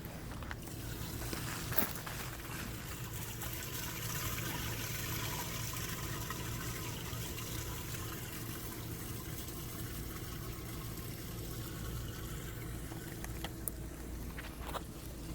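A camper's gray water tank drains through a hose, giving a steady low rushing flow with a constant rumble. A few sharp knocks break through here and there.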